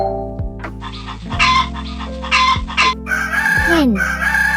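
A chicken gives a loud, close crow, then clucks in short bursts with a rising squawk near the end, all clear and dominant with no talk over it.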